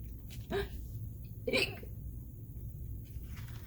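A voice imitates a penguin's hiccups: two short, sharp hiccup sounds about a second apart, each a quick bright yelp, with quiet pauses between.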